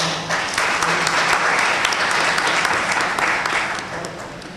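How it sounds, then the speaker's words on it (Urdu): Sustained, dense audience applause at a political educational session of Jamiat Ulema-e-Islam Pakistan, a steady wash of many hands clapping at full volume for several seconds before tapering slightly at the end. "میں چاہوں گا کہ ان کے لیے ایک بار پرزور تالیاں۔"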